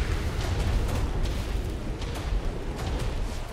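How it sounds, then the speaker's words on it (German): Explosion in the video game ARK: a continuous deep, rumbling roar with faint crackling bursts scattered through it, moderately quiet and steady, with no voices. "Okay, da explodiert irgendwas."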